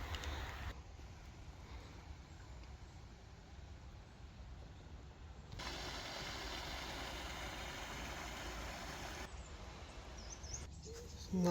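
Steady road traffic drones from a nearby road beside canal moorings on the Chesterfield Canal, a continuous broadband rumble that swells louder partway through, with a few faint bird calls over it.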